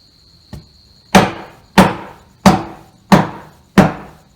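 A mallet drives a chisel into timber for a scarf joint and mortise: a light tap, then five loud, evenly spaced, sharp knocks, each with a short woody decay.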